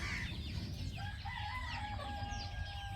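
Fighting-breed chickens in a farm breeding pen cluck and call, with a rooster crowing through a continuous mix of bird sounds against a low rumbling background.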